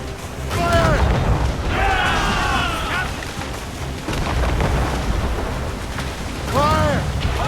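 Ship cannons firing on a Royal Navy gunboat in Assassin's Creed Rogue, with deep rumbling booms under a busy naval battle and shouting crew voices over the top.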